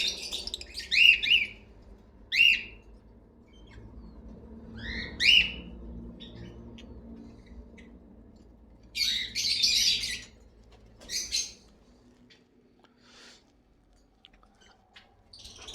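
Lovebirds, a blue pastel splitino breeder pair among others in a breeder's aviary, give several sharp bursts of chirps and tweets in short clusters with quiet gaps, over a low background hum.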